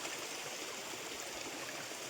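A stream flows between two hills near a pond in Mota Kothasana village, giving a steady, even rush of water. It is continuous and fairly soft, with no voices.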